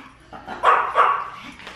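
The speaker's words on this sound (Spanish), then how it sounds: "¿Tú a quién le estás ladrando?" A dog barks a couple of times nearby, short sharp yaps rising over a quiet indoor background.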